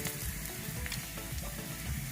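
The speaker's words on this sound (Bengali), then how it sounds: "এই দেখুন বন্ধুরা, ক্যাপসিকামটা ভাজা হয়ে গেছে।" Chopped capsicum fries in a pan for gobi manchurian, with a steady, close oil sizzle and crackle and faint stirring throughout.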